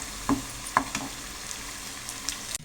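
Bhaji frying in a small kadhai, a quiet steady sizzle with a few sharp clinks and stirring knocks near the start and a louder clatter at the very end.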